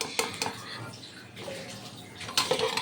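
Boiled jackfruit seeds being drained in a kitchen: a steady splashing, pouring wash of water with a few sharper clinks and louder gushes near the start and end, close and moderately loud.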